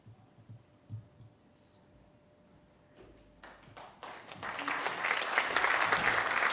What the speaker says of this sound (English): I feel like I got a round of applause for making it up onto the stage then